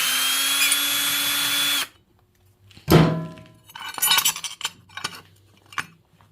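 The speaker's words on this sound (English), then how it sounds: "switched over to the drill here. It's got some good power." Power drill spinning apart a Honda CB750 single cam engine: a steady high whine runs loud and alone for about two seconds, then stops, followed by metallic clinks and handling noises of parts and tools.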